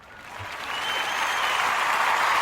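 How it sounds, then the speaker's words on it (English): Applause for the eight teams knocked out in the Sweet 16 rises from a soft start into a full, sustained burst of many people clapping, growing louder over its short span. "let's give a round of applause to the 8 teams that lost in the Sweet 16"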